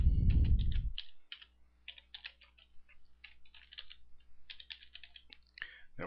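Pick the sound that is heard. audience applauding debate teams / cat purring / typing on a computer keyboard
typing on a computer keyboard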